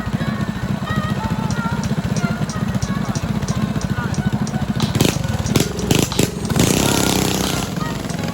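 A Coleman BT200X minibike with a Predator 212 Hemi engine runs nearby with a loud, steady, rapidly pulsing putter. Its tone roughens and surges briefly toward the end.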